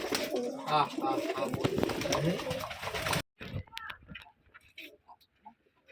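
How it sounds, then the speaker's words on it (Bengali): Pigeons coo at a Rajshahi pigeon farm, soft repeated calls mixed with busy talk and bird noise before a sudden cut to quieter scattered coos and rustles. "এই যে সবগুলো কবিতর মাশাল্লাহ দেখতেও শুনতে ভালো"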